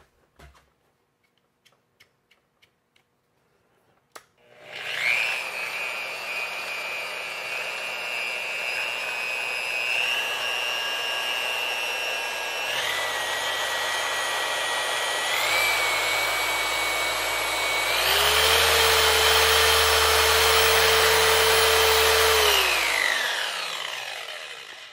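A Harbor Freight Bauer 20mm long-throw polisher with a 6-inch backing plate soft-starts and runs loud and close, its steady motor whine stepping up through speed settings before spinning down at the end.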